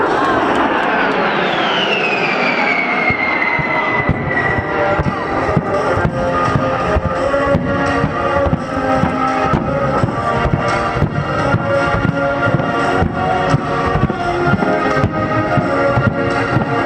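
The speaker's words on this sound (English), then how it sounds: "the mighty Buff, the B-52." A B-52 bomber roars overhead at an air show, a loud, dense jet engine rumble with a descending whine early on, sustained and continuous throughout.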